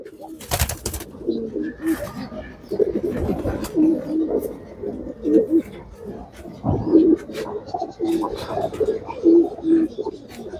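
Racing pigeons entered in a 41 kg tournament coo in repeated low, soft bursts, close by and steady, with a brief rustle near the start.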